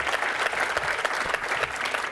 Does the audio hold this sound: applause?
yes